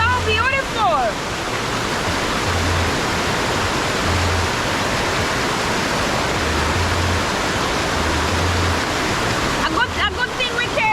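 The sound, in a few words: waterfall by the ocean in Ocho Rios, Jamaica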